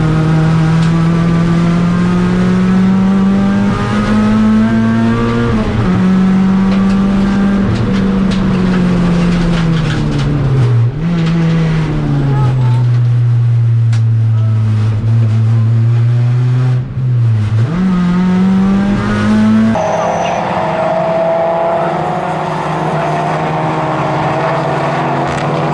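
Race cars roar past on the Oulton Park circuit during a 750 Motor Club endurance race, a loud continuous engine drone with pitch rising and falling as cars accelerate and brake, and another car's note cutting in near the end.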